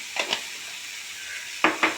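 Turmeric, chili powder and coriander powder frying in a hot pan give a steady, close sizzle, broken by a few brief louder bursts of scraping and stirring at the start and near the end.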